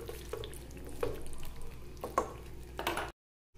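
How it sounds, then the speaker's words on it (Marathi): Peas and paneer are stirred in a pan, with soft scraping strokes at intervals over a faint sizzle, quiet and without talk, before cutting to silence. "150 ग्रॅम पनीर घेतलेलं आहे, ते सुद्धा मी यामध्ये टाकून घेते आणि व्यवस्थित असं मिक्स करून घेते"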